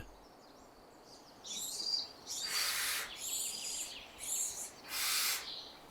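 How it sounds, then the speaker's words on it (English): Mother barn owl calling, a series of harsh, hissing screeches in several bursts, close and clear against a quiet background. "the mother barn owl is exhausted."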